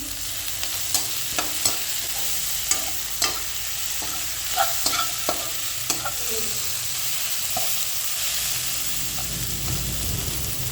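Spices and cardamom fry for khichuri in a non-stick pan, a steady sizzle broken by sharp scraping stirs at irregular intervals, close and moderately loud with no voices.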